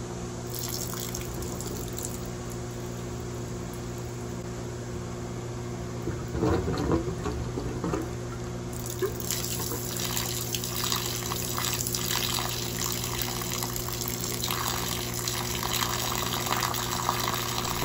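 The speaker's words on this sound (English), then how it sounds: "just to see how quickly the water comes out" Water gushes out of a pipe coupling in a cabin, a steady rushing flow over a constant low hum that swells louder partway through and keeps running without talk.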